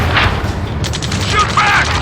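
Gunfire in the combat game Ace Combat 7, a burst of shots and booms layered over shouted voice commands, with sharp repeated cracks in the second half.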